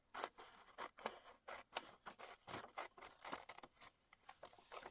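Scissors snip through a glossy magazine page in a quick, uneven series of crisp cuts, close and fairly quiet, with short pauses between bursts.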